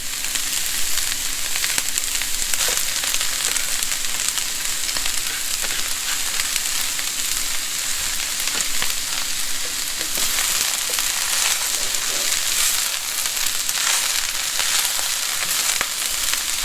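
Carrots stir-frying in a hot wok over high heat, a loud dense sizzle holding steady throughout with occasional light stirring scrapes, no talking.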